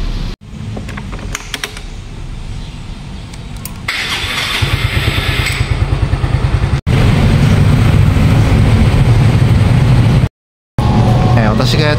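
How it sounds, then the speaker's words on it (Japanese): A motorcycle starts and rides off in Bangkok, its engine rising from a few quiet clicks to a steady close rumble, with a brief dropout near the end. "今日はねバイクで行こうと思います。"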